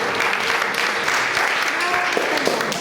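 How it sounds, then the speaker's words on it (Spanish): Church congregation clapping together in praise, a thick, continuous wall of applause from a large crowd filling the sanctuary, with scattered voices mixed in. "denle palmas al Rey"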